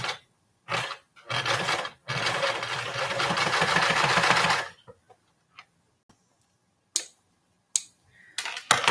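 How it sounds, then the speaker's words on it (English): A sewing machine stitching fabric for a small standing bag runs in several short bursts, one longer run of a few seconds, then brief stops and quiet handling sounds, close by. "I'll just stick this in here and sew some more on it."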